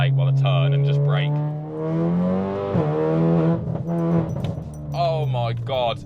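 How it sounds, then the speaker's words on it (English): A Volkswagen Golf R fitted with upgraded brakes accelerates hard and then brakes for a corner, its engine drone rising and falling in pitch, loud and close. "Let's do a little pull here before the corner that I've got to take while I turn, and just brake."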